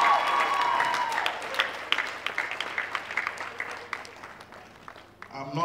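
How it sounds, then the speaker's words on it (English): An audience at a Lagos comedy event claps in a thick, steady burst that gradually thins and fades, and a voice cuts in near the end. "Please, I want you to double that clap and give it to this man also."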